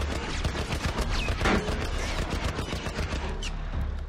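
Heavy .50 cal machine gun in The Last of Us firing in rapid bursts, dense crackling volleys at close range throughout with brief sharp spikes, no talking.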